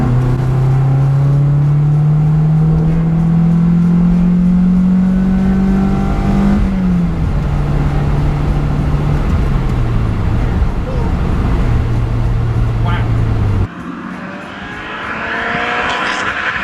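A Lotus Elise lightweight sports car's engine drones loud and close as it drives hard on the road, holding a steady pitch that climbs, then drops through gear changes, with road and wind noise surging at the end.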